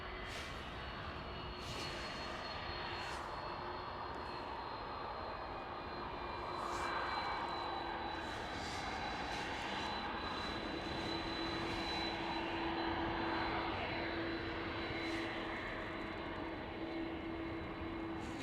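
An airliner takes off from Amsterdam Schiphol, its jet engines roaring steadily at a distance, rising slightly in the middle and holding for over fifteen seconds.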